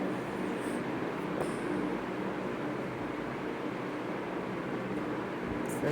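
Steady rumbling noise of a train arriving at a station, with a broad hiss, continuous and fairly loud, with no clear voices.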